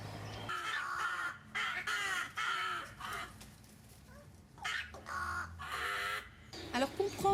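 Recorded calls from a rook colony are played back outdoors to the birds, producing bursts of harsh, overlapping caws from several rooks. The calls come in clustered volleys separated by short quieter gaps.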